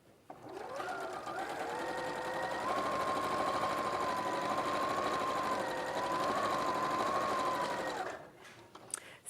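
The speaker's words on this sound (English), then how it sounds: "I'm going to top stitch along the fold." A sewing machine top stitches along a folded fabric panel, humming in a steady, close, continuous run for about seven seconds before it stops, with a few handling noises at the end.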